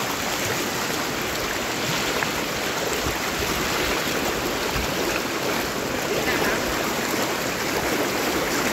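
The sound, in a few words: flood water flowing like a river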